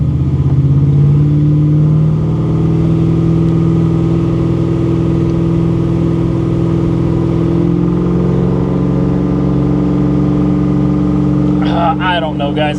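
Chevrolet Monte Carlo SS with a new transmission cruising at highway speed, a loud, steady in-cabin engine drone that shifts pitch as it changes gears, with a brief voice near the end.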